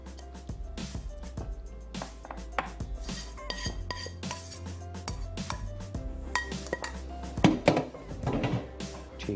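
Mixed vegetable halwa is dished out with dishes, pots and cutlery, giving irregular close clinks, taps and scrapes of metal and glass that turn louder and busier toward the end.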